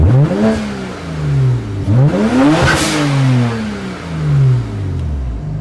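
A rebuilt, fully built BMW car engine runs rough and revs repeatedly, its pitch climbing and falling in several loud, close sweeps with no talking over it.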